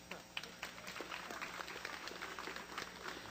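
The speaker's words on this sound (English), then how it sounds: "How about a round of applause for our Lexington Legends?" A crowd applauds the Lexington Legends baseball team at an indoor media day, with a steady patter of many hands clapping at moderate distance.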